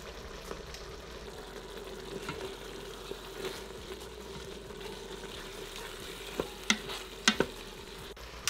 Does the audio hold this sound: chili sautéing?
yes